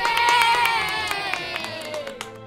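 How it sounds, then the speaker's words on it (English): A crowd cheers and claps for King Solomon at a coronation, a bright, sustained roar of shouting and applause with a voice or tones sounding above it. "Let's all cheer for King Solomon!"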